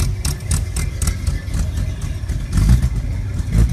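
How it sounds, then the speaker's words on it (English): An old Saab Sonett's two-stroke engine running at a weekly car and truck show in Huntington Beach, California, a loud, close, buzzy idle with slight rises in revs. "he's got a Saab, 2-cycle Saab motor in there. Old Saab Sonnet before they went to the V4."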